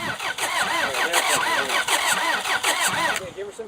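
Car engine cranking over and over in a failed cold start on a long-neglected car, the starter whirring in a fast repeating rhythm without catching, loud and close, with people talking over it.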